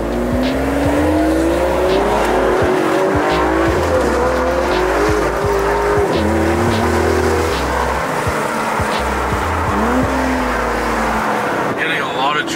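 Car tires losing grip and sliding sideways, probably from a Mercedes C63 S, with a loud engine that rises and falls steadily throughout under traction-control intervention; a voice talks over it now and then.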